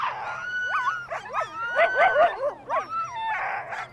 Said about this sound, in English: she and her boyfriend enjoy riding around behind a team of sled dogs.